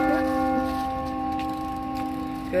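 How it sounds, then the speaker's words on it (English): A church bell rings with a steady sustained tone on a summer walk home, faint and distant beneath outdoor ambience. "if you hear that ping, ping, that's the church"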